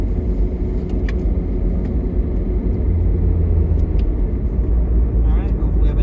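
A car drives along a snowy road, its engine and tires giving a steady, close, low rumble inside the cabin, with faint muffled voices underneath.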